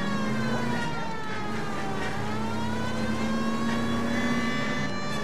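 A car engine accelerating during a chase in the L.A. Noire video game, a sustained droning roar with rising and falling pitch beneath a wailing siren, loud and continuous with no voices.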